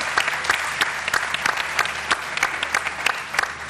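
A studio audience claps loudly for a guest at an Iftar television show, a lively mass of hands with individual sharp claps standing out through the steady roar.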